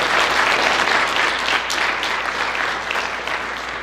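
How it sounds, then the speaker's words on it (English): A crowd claps for two high school football players at a senior signing day, the applause full and sustained at close range before slowly thinning toward the end. "if we clap it up for these 2 you guys"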